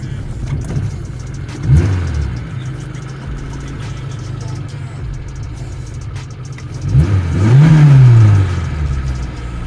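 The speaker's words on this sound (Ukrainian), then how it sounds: "Ну, давайте газну різко. От вони піднялися." A MeMZ Tavria car engine with an unsteady idle idles low, then revs sharply twice, the second rev climbing louder and holding briefly before dropping back to idle.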